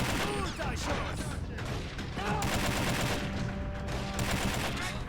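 An RK-47 rifle fires in a plastic army men battle video game, rattling off rapid bursts of shots amid other gunfire and game noise, with a voice commenting over it.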